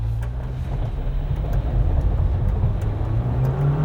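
An off-road vehicle engine holds a steady, constant throttle while climbing with the rear diff lock engaged, a loud continuous low drone with a slight pitch rise toward the end and no talking.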